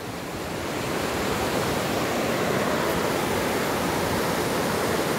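Mountain stream in Bander Khad, full of water after quick rain, rushing in a loud, constant broadband roar that swells in the first second and then stays steady throughout.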